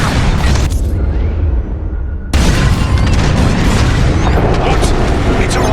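Bombs dropped during a space raid in the Star Wars Squadrons starfighter game explode in a loud, heavy boom that hits abruptly after a brief lull, then rolls on as dense, sustained rumbling blast noise.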